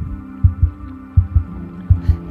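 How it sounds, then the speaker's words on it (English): A slow, deep heartbeat thudding in paired beats, three double thumps over a low steady hum, close and prominent with nothing else around it. "Is that her heart beginning, thudding, a skimming stone?"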